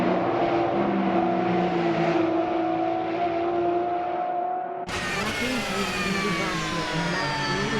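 Porsche GT3 race cars on the Kemmel Straight in a sim racing game, a loud sustained engine drone at high revs that cuts abruptly to a brighter, higher-pitched engine whine partway through.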